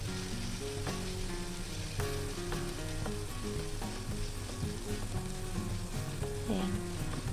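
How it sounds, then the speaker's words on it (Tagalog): Minced pork with garlic frying in a pan, a continuous close crackling sizzle at an even level throughout, with faint scrapes and light clicks scattered through it and no talk. "Hintayin natin maging golden brown at ilagay yung karne na giniling."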